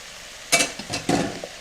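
Cooked rice tipped into a hot pan for vegan kimchi fried rice, about four cups, giving a few short scraping stirs and a light sizzle in quick bursts, close and clear.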